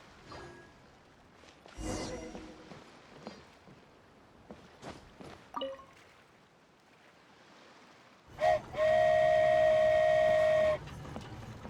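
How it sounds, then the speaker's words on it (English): A toy train in a video game whistles with a loud, sustained tonal blast lasting about two seconds, following a stretch of light footsteps and soft clicks and thumps. "So this is what it feels like to ride a toy train."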